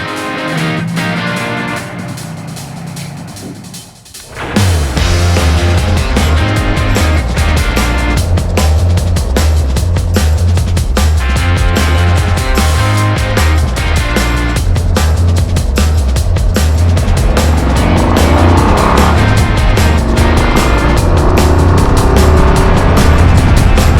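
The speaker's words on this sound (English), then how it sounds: "I'm looking forward to taking it out for a ride" A 2025 Harley-Davidson Low Rider ST motorcycle starts up after a quiet moment, then a loud, close, continuous engine rumble and wind roar carry through the ride, building toward the end; no talk.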